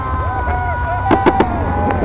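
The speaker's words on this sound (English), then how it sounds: "You're gonna fly right through the fireworks, man." Fireworks burst around a flying FPV drone in a few sharp pops near the middle and end, over a steady whine of drone motors and wind.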